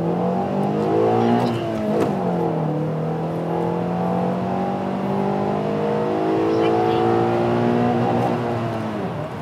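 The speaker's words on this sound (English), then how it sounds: "V-tec just kicked in, yo." An 8th-generation Honda Accord accelerates hard toward the rev limiter, the engine note rising in pitch through the gears, with a brief drop at a shift and a sustained loud climbing drone from inside the car.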